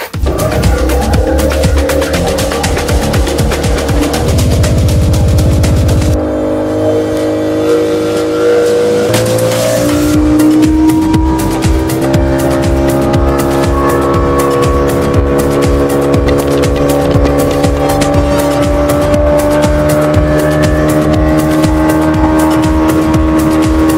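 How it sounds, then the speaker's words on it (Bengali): A tourist boat's motor at Maithon starts up loudly and close as the boat departs, its drone rising in pitch and settling into a steady throb across the ride, with no voices. "বোটিংয়ে উঠে পড়েছি, আমাদের নৌকা ছাড়বে এবার।"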